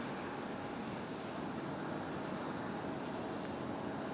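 A JetBlue airliner passing over Raleigh-Durham International Airport, a steady broad engine roar heard from the ground, with no talk.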